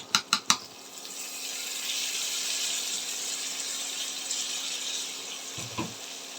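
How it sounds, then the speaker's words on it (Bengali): Cubed potatoes fry in a pan with garlic, green chili and dried fish: a few quick knocks at the start, then a continuous moderate sizzling hiss with an occasional clatter near the end. "আলুটাকে দিয়ে 5 থেকে 6 মিনিট ভালো করে ভেজে নেব।"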